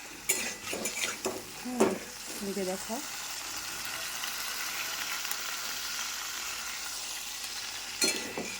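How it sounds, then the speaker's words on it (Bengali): A fish head fries in a pan for a muri ghonto dish, giving a steady broadband sizzle with stirring and utensil scrapes near the start and a short clatter near the end. A person speaks briefly early on. "মাছের মাথা বয় দিচ্ছি ভাজার লেগে মাছের মাথাটি ভাজাও"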